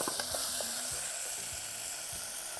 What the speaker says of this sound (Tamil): இஞ்சி பூண்டு அரவை போட போகிறோம். கூடவே 2 கை தக்காளி பழத்தை போடுறோம். போட்டு வதக்கிடணும்.